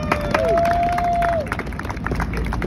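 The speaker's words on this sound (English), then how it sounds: "Ladies and gentlemen, give yourselves a round of applause." A Times Square street show crowd claps and cheers in a busy outdoor burst, with a whistle-like tone near the start and general babble under the steady applause.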